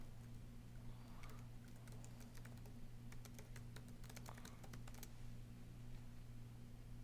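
Quiet typing on a computer keyboard while entering an email message, a quick flurry of soft clicks in the middle of the stretch over a steady low electrical hum, with no voices.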